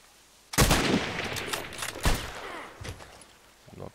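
Sniper rifle shots in a video game crack out close and loud, one sharp report followed by a few more spaced shots over several seconds, each trailing off in a short echo.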